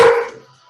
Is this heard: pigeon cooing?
no